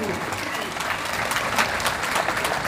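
A crowd claps steadily at an Afghan Independence Day event, the applause loud, dense and continuous throughout.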